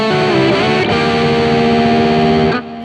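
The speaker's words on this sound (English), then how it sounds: "the delay for the lead sound" Distorted electric guitar lead tone from a Fractal preset with delay: a loud, saturated sustained note with a short bend early on, ringing steadily with effects before dropping off near the end.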